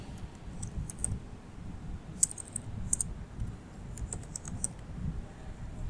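Someone types a name on a computer keyboard in a quiet room, producing steady, close, light key clicks with a few sharper taps.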